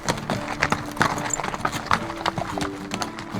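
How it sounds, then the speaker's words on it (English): Pack horses and mules walk a mountain trail in Idaho's Sawtooth country carrying gear, their hooves clip-clopping in a steady, uneven rhythm close by, with a brief whinny and some faint talk alongside. "The horses and mules follow, carrying most of the gear and supplies needed for their adventure."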